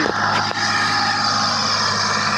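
A tractor engine runs steadily while preparing a field for paddy, a continuous low droning rumble close by, alone with no talk and one brief dip in level.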